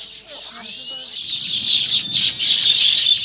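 Dense chorus of small birds chirping and twittering continuously, bright and busy, with a short tonal sound at the start.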